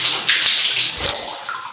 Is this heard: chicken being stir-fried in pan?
no